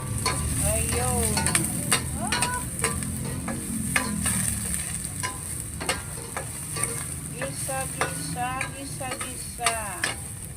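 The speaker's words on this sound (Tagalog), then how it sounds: "Start na tayo magluto gisa-gisa. Ayan, sibuyas, luya." Onion and ginger sauté in a pan for a Filipino ginataang tuna dish, a steady close sizzle with repeated scraping stirs and clinks of a utensil against the pan throughout.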